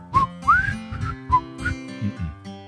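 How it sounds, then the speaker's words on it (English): A person whistles a short run of separate notes, some sliding upward, in a quiet room, each note breathy and close. "This is me trying to whistle."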